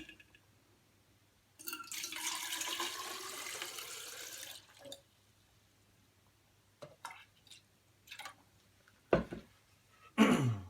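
Water being poured from a container into a vessel for mixing a C-41 colour film bleach-fix bath, a steady splashing gush lasting a few seconds, followed by scattered drips and small clinks, then a short final pour.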